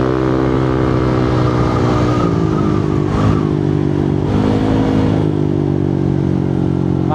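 Honda PCX160 scooter riding along a rural road, its engine droning steadily and close with slight pitch shifts as speed changes, plus constant wind and road rumble throughout.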